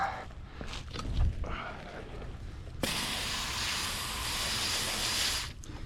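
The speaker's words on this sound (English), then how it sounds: "Let's try spraying that down." A few handling noises, then a sustained close hiss of wheel cleaner sprayed onto a car wheel, lasting several seconds before cutting off abruptly.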